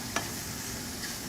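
Bell pepper and celery sweating in a pan give a quiet, steady sizzle with one faint clink near the start.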